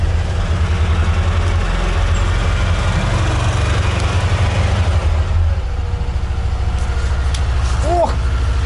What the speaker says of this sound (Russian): он заводится с полпинка, блин, заводится. Как часики